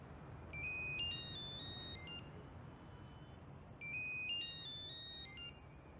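A phone ringtone plays two bursts of a bright electronic melody separated by a short pause, fairly faint against a quiet room.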